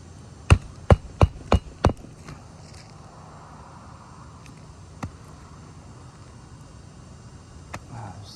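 Five sharp hammer blows drive fasteners into a roof shingle in quick, evenly spaced succession, followed by quiet with a couple of faint taps later.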